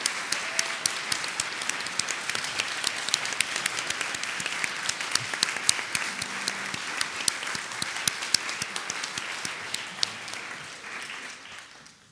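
Sustained audience applause fills a church service at a spiritual center, dense steady clapping from a crowd that holds for about ten seconds before gradually thinning out at the end.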